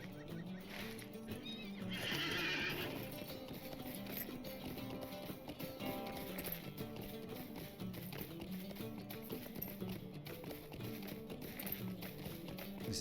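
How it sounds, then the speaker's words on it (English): A horse in the Lord of the Rings Online video game gallops with steady clip-clop hoofbeats and lets out a loud whinny early on, all over a busy bed of game music and ambience. "Let's get our horse going."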